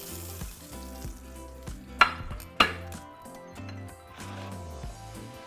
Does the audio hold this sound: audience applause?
no